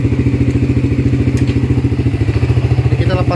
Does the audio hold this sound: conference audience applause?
no